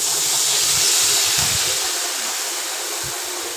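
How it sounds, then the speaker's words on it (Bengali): Water poured into a hot pan of cumin and chilli tempering with salt and turmeric for mustard hilsa curry gives a loud, steady steaming hiss that fades slightly over a few seconds. "আমি এবার জল দিয়ে দিচ্ছি"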